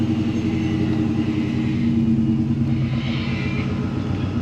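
A supercharged BMW M5 drifting with traction control off, its engine a loud, steady, close rumble that holds for several seconds with a slight rise in intensity.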